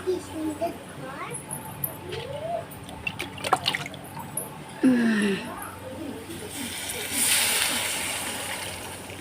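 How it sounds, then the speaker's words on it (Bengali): Water goes into lentils in a wok after onions and chillies have been browned, with a splash followed by a rising hiss and bubbling over a low, faint voice and earlier scattered kitchen clatter. "ডালটাকেও একটুখানি ওলট পালট করে দিয়েছি এবারে পানি দিয়ে দেবো"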